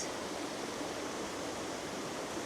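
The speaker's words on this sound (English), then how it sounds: "the best view you're going to get of this waterfall" Scale Force waterfall in the Lake District roars as a steady, dense broadband rush of falling water, continuous and moderately close with no other sounds.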